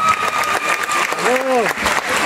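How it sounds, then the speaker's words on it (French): Pageant audience applauding a contestant's walk, a dense wash of clapping mixed with someone talking over it through a microphone. "On l'applaudit bien évidemment à nouveau pour ce joli parcours."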